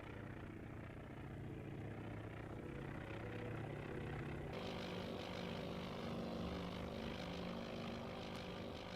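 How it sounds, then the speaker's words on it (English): Piston aircraft engines start up and run in Task Force Admiral, a WWII carrier game, rising to a steady, loud propeller drone that thickens partway through and holds without talk. "now you can hear the engines go"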